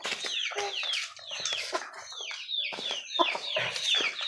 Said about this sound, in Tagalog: Ay mo ni manok pre.